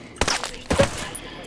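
Two sharp gunshots in the video game Ghost Recon Breakpoint, about half a second apart, punchy and fairly loud, followed by a quiet background with faint game ambience.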